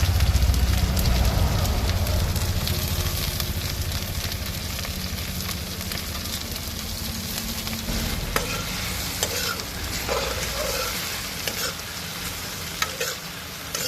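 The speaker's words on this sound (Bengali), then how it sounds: "তেল বিরাট গরম হয়ে গেছে পেঁয়াজ লঙ্কা দিয়ে ভালো করে ভাজবো এবার" Sliced onions and green chilies fry in very hot oil while a chicken curry is cooked inside a car, giving a loud, continuous sizzle that eases slightly over time, with scattered clicks from stirring.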